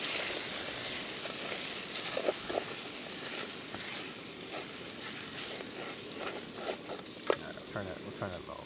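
Seasonings sizzling and frying in a pan over a low flame at a solo overnight mountain camp in the Koʻolau range, a continuous crackling hiss with scattered small pops and stirring scrapes, close and fairly quiet.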